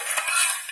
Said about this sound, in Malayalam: നല്ലപോലെ ഇളക്കണം.